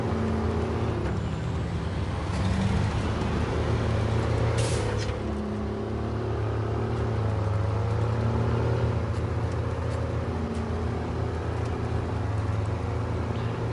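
A truck engine hums and drones steadily while driving in the SnowRunner video game, a continuous low rumble with minor shifts in pitch, heard alone without talk.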